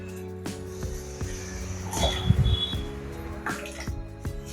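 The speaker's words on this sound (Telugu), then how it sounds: "ఇప్పుడు దీంట్లో కొన్ని వాటర్ పోద్దాం." Water pours into egg curry masala sizzling in oil in a pan, a short splashing hiss in the middle against steady kitchen background noise, with no talking.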